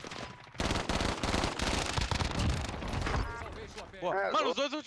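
Rapid bursts of automatic gunfire in a shooting video game, dense and loud for about three seconds, then giving way to a higher, warbling electronic game tone with no talking.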